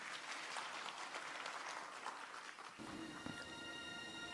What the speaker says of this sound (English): please, a big round of applause for our opening show.